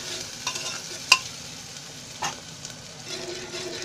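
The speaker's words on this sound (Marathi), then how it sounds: "तेल तापलं आहे, मी तर कांदा टाकते." Onion hits hot oil in a pan and fries with a soft, fairly quiet sizzle, broken by a few sharp clicks and stirring scrapes of a spoon.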